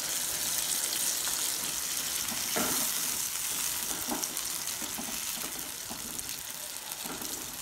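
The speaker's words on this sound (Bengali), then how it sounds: "জল দিয়ে দিলাম" Water goes into a pot of mutton and potato curry, raising a continuous soft sizzle and bubbling with a few scraping stirs, fairly quiet and close.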